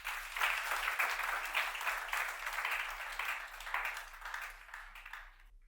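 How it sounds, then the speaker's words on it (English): A conference audience gives a speaker another round of applause, a full, steady wash of many hands clapping at moderate volume that tapers off near the end. "can we clap for him again?"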